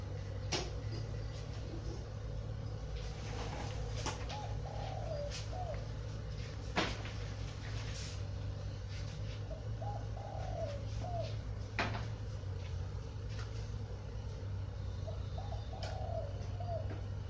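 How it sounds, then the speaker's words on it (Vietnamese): Spotted doves coo in short repeated phrases a few seconds apart, somewhat distant, over the steady hum of honey being spun in an extractor at a beehive, with scattered clicks and no talk. "Vừa quay mật vừa nghe cu gáy, các bạn thấy không? Cu gáy hay chưa?"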